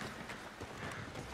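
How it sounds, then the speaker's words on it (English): A horse's hooves clop along behind the player in the western video game Red Dead Redemption 2, a brief run of soft, muffled hoofbeats over a dense ambient background. "oh, my horse following me"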